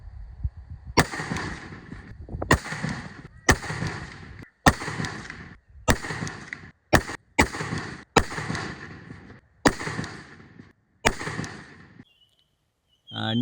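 Nine sharp rifle shots firing Federal Power Shock 55 grain jacketed soft point ammunition crack out loud and close, spaced roughly one to two seconds apart, each followed by a short decaying echo.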